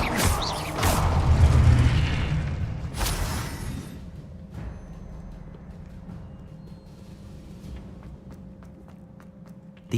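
Confringo explosion spell cast in the video game Hogwarts Legacy: a loud, booming blast up front with a second crack around three seconds, fading into low rumble and scattered clicks.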